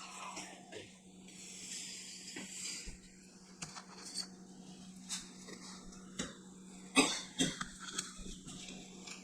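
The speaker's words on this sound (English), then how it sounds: "He's coughing over the pepper in dinner." A few faint coughs from pepper come through amid low kitchen background noise, with a sharper cough cluster near the end.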